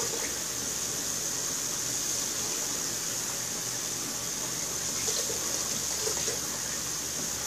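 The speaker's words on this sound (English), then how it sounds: "You're gonna run it under the water." Warm tap water runs steadily over a vinyl record being cleaned, a continuous close splashing rush lasting throughout with no pauses or voices.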